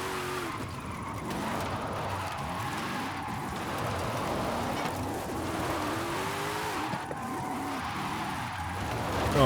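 A car in Forza Horizon 5 drifts sideways, its engine roaring steadily while the tires squeal and skid through long slides, loud and continuous from start to finish.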